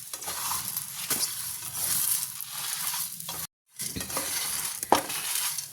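Curry leaves and whole spices frying in a pan for temple-style tamarind pulihora, making a constant crackling sizzle with stirring scrapes, cut by a brief moment of silence midway.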